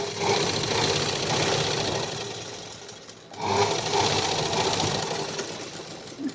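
A sewing machine stitches a blouse hook strip, a close steady rapid mechanical whir that dips briefly midway, then resumes at full speed.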